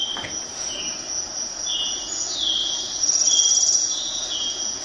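Forest sounds recording with crickets played through a Google Home, a dense, steady chirring of insects with shrill trilling layered over soft background hiss at moderate volume.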